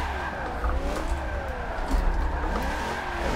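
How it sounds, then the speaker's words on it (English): Simulated car engine in a drifting video game played on a Logitech G920 wheel, revving hard after a clutch kick with tire squeal, steady and loud throughout with no talking. "A little clutch kick."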